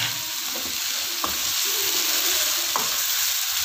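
Chopped tomatoes go into a pan of frying arvi (taro) masala, giving a steady loud sizzle with a couple of sharp scrapes of a spoon stirring through it.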